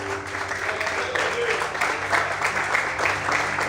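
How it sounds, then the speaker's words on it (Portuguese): Church congregation applauding during a Portuguese-language worship service, a steady wash of clapping from many hands with voices mixed in. "Aplaude e exalte a Deus"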